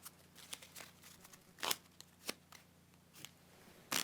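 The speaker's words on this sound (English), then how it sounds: "I'm going to give it a couple of shuffles." A stiff deck of playing cards is riffled in several quick bursts, each a short crisp rattle close to the mic, with pauses between shuffles and no talking.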